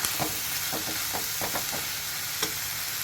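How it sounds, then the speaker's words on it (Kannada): Coriander leaves fry in a pan for soppina paddu, a soft continuous sizzle under a series of quick stirring scrapes and clicks, near but fairly quiet, with no talking. "ಕೊತ್ತಂಬರಿ ಸೊಪ್ಪು ತುಂಬ ಬಾಡಿಸ್ಕೋಬಾರ್ದು, ಸ್ವಲ್ಪ ಫ್ರೈ ಆದರೆ ಸಾಕು"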